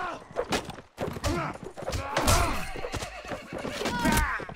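Horse in a medieval combat video game neighs and whinnies amid clattering hooves, thuds and scattered battle impacts, with a few faint voices underneath.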